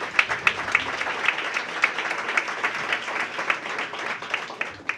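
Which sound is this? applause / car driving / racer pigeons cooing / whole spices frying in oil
applause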